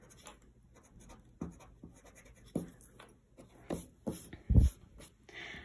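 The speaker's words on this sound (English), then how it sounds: "then you're going to go back and erase those lines that you don't need" A pencil eraser rubs out lines on drawing paper in short, scratchy strokes. The rubbing is close and uneven, with a few louder bumps against the paper or desk.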